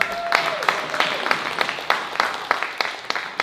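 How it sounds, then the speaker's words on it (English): An audience at a talk on the words and music of a musician and James Baldwin breaks into applause, a brief burst of scattered, fairly close clapping with sharp individual claps standing out. "let's have a round of applause for Megan"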